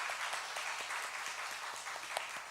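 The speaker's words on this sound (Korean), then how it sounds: "우리 박수로 환영하겠습니다." A church congregation at a Sunday worship service claps to welcome a newly married couple and their family. The applause is soft and steady, a continuous patter of many hands heard from a distance, with no speech over it.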